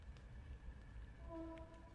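A distant train rumbles low and steady, with a faint horn tone rising briefly near the end; quiet and far off.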